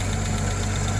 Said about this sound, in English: Little lifter tick.